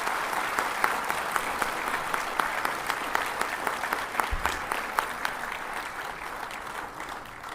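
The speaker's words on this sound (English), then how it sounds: "Please give a warm round of applause." A large audience applauds a retiring Supreme Court justice at a bar association farewell event, steady dense clapping sustained throughout with a few sharper claps standing out.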